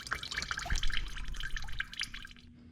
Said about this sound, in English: So I am draining all this fuel.